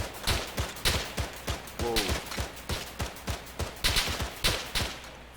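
A simulated firefight in ArmA 3 running the 3CB mod rattles off repeated sharp shots in an irregular, steady rhythm at moderate loudness, while a single voice briefly exclaims partway through.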